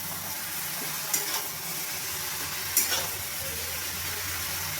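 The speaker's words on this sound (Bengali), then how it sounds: "এবার আমি ভালোভাবে নাড়িয়ে নেব" Bottle gourd with salt, turmeric and coriander powder sizzles steadily in a kadai while a spoon stirs it, with two brief scraping clinks against the pan over the constant fry.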